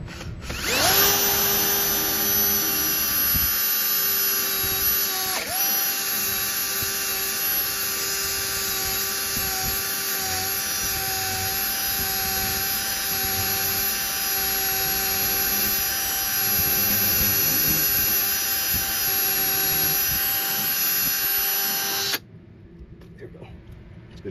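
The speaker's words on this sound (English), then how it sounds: "you wanna run this at high speed, going in very slowly in and out, pulling those shavings out" A power drill whines at a steady high pitch for about twenty seconds, with slight strains and scraping as it bites into a metal trailing arm stud on a Triumph TR6, then stops abruptly.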